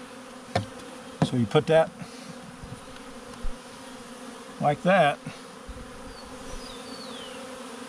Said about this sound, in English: And now the other bees are going to march in.